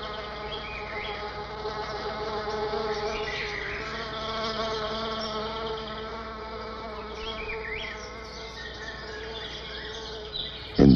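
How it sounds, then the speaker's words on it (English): An iridescent orchid bee buzzes close by with a sustained, droning hum that rises and falls slightly as it hovers, continuous for the whole stretch, ending with a brief louder bump. "a species of beautiful, iridescent orchid bee, the plant's one and only pollinator"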